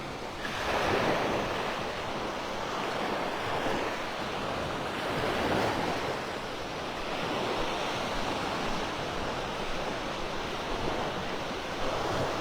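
Surf rolls onto the beach at Delnor-Wiggins in North Naples, Florida, at sunset, a steady wash of waves rising and falling with wind buffeting the microphone and no voices.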